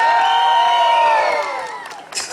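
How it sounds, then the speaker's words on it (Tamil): A crowd at a Pongal celebration cheers and applauds a guest who managed about 500 people, with loud whoops that fade toward the end. "அவனுக்கு ஒரு பலத்த கரகோஷம் கொடுங்க."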